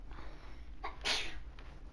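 A single short sneeze sounds indoors at moderate distance over a faint background hum.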